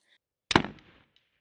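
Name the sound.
arrow shot from Mathews Title 34 compound bow hitting 3D target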